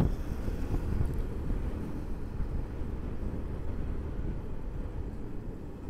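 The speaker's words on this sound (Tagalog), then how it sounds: "Eh medyo namalakas na yung hangin." Steady roaring wind buffets the microphone throughout, a dense low rumble with no letup, like riding fast on an open motorcycle.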